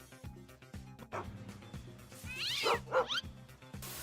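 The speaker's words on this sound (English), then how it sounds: "Dog." Dog barking in a Lego animation: a few short barks and yelps near the middle, set against steady rhythmic background music.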